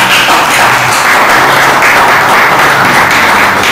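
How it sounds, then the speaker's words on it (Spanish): A Spanish-speaking audience applauds at an online session of the Escuela Internacional de Estudios Superiores. The clapping is loud, dense and steady throughout, with no voices over it. "Un fuerte aplauso, pero no para mí, sino para ustedes por estar ya acompañándonos."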